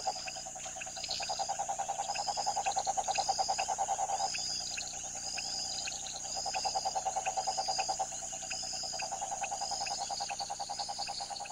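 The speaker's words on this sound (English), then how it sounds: "when the conditions are just right, the frogs begin to breed" Frogs in the flooded Pantanal wetland call in a dense chorus of rapid, pulsing croaks that swell in waves over a steady insect hum, with no talking.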